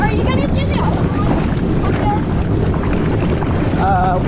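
Loud rushing water and wind buffeting during a ride down a waterpark waterslide, a constant roaring wash with excited voices shouting over it.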